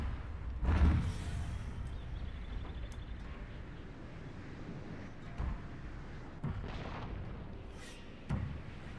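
Mortars fire during a Shogun 2 Total War battle, a few dull, muffled booms spaced several seconds apart over a low, rumbling background, fairly faint and distant.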